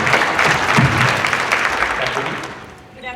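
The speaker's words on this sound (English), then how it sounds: "I'll give you some claps" Audience applause for a speaker at a creative placemaking summit, a steady wash of clapping from a seated crowd lasting about three seconds before fading at the end.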